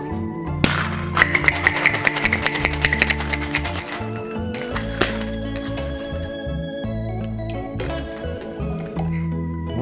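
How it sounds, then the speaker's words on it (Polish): Ice rattles and clinks hard inside a cocktail shaker as Mango Collins ingredients are shaken, a dense rapid clatter that pauses briefly and resumes, loud and close throughout. "Mamy już wszystkie składniki w naszym shakerze, także przystępujemy do miksowania"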